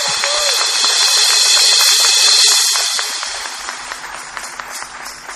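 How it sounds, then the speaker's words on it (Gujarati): Loud, dense applause from an audience at a bhajan evening, a sustained wash of clapping that thins out and fades after a few seconds. "જોરથી વગાડો તાળી."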